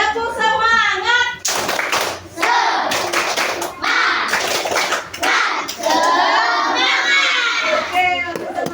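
A fifth-grade class of children performs a rhythmic spirit clap in a classroom, loud bursts of patterned hand clapping mixed with shouting and chanting voices, with a teacher's voice speaking before and after.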